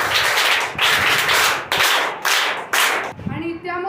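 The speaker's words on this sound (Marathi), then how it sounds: "त्याबद्दल सर्वांनी टाळ्या वाजवा" An audience at a school event for Gandhi and Lal Bahadur Shastri Jayanti claps loudly in pulsing waves of applause, which fade as a voice begins speaking at the end.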